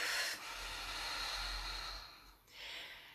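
A slow, audible breath during calm breathwork, a soft airy hiss of inhale then a long exhale, close and quiet, with a brief pause before a final breathy push.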